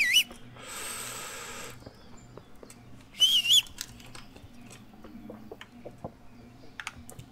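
Sharp whistles call for a horse in the medieval video game Kingdom Come: Deliverance, two short bursts separated by a hissing noise, followed by scattered clicks and light background sounds.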